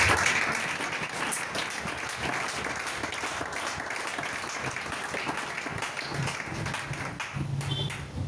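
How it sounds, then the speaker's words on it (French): Steady, dense clapping and cheering from a church congregation fills the space, loud and continuous throughout with no break. "Est-ce que tu peux acclamer pour l'alliance politique?"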